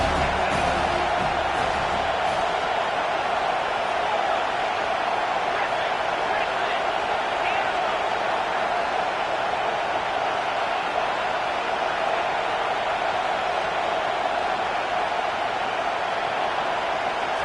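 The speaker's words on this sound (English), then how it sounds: "3rd down, and this crowd is tearing the lid off this place" A stadium crowd at a football game roars on third down, a dense, sustained wall of cheering that keeps up throughout, with a commentator's voice running over it.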